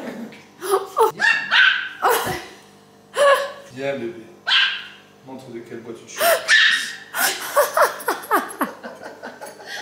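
Dogs bark, yelp and gasp in a scuffle close by, short sharp bursts scattered through steady conversation from people nearby.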